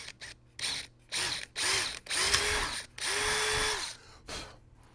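A power drill bores into the wooden stock of a 1903 Springfield rifle in several close, loud bursts of rising whine and grinding, the later runs longer, separated by short pauses.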